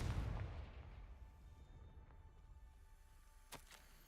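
Confringo fire spell from Hogwarts Legacy bursting with a loud blast at the start, its rumble tailing off, then a short sharp crack near the end.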